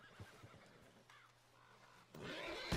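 A horse in Red Dead Redemption 2, with faint snorts and a short whinny followed by a louder thump and scuffle near the end, quiet overall and with no talk.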